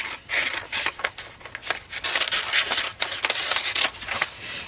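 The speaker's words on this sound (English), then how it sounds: "And then I'm going to run my scissors down the side." Scissors snipping and sliding through a crisp sheet of Tyvek for a bookbinding spine, a series of close scraping cuts with short pauses between strokes.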